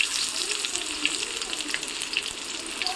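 Chopped garlic and onion sizzle in hot oil for an ilish fish and ash gourd curry, a steady close crackling hiss with small pops, continuous and fairly loud.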